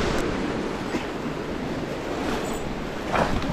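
Steady wash of waves breaking at the shore, continuous broadband surf with some wind rumble on the microphone, fairly loud and close, with no voices.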